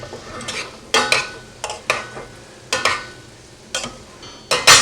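Pesto stirred in a bowl with a utensil, giving close, irregular scraping and clinking strokes, about eight short bursts over a quiet background.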